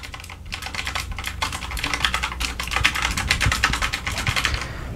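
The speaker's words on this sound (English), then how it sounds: "It is mechanical as well, so you can kind of hear the clicking here." Keys on a mechanical LED backlit typewriter-style keyboard clatter in fast, continuous bursts of crisp clicks, close and fairly loud, with no talking.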